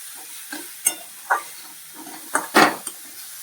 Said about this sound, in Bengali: নাড়িয়ে নিচ্ছি। কম আঁচে দিয়ে এটা করব, বেশি আঁচে দেবো না।